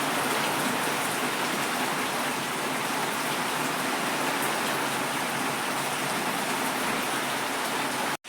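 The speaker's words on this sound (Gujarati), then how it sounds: "ફૂલ વરસાદ ચાલુ થઈ ગયો." Heavy monsoon rain pours down in Gujarat as a dense, unbroken roar of drops striking surfaces, loud and steady throughout with no voices, cutting off abruptly at the very end.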